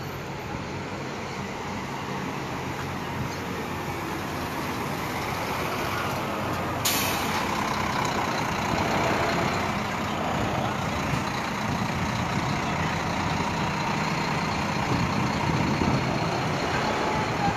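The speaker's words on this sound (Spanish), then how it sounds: "Ya vemos un autobús que está a punto de salir." A bus about to depart idles nearby as a steady, broad engine rumble with traffic noise, and a sharp hiss like an air brake release partway through.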